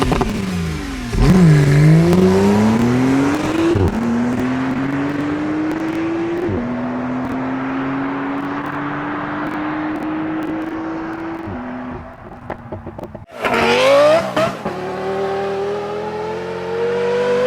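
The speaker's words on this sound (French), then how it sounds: "vous allez écouter avec moi le bruit de ma Targa 4 GTS" Porsche 911 Targa 4 GTS engine heard alone up close: a sharp rev at the start, then climbing pulls through the gears with shifts, a lull near idle, and another hard burst of revving toward the end.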